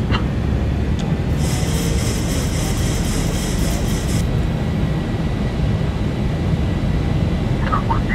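Airliner engines spooling up for a go-around in the X-Plane 12 flight simulator on approach from Oakland, a steady loud roar with a thin high whine for a few seconds.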